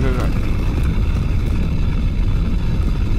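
A rocket launching in Minecraft Bedrock Edition on the Artemis rocket build map, a loud continuous rumbling roar with low-end thrust noise that stays steady throughout.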